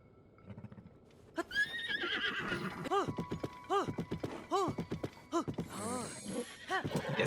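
A horse in the video game Tears of the Kingdom neighs in repeated loud whinnies with snorts and clip-clopping hooves, close up, with faint game sounds around it.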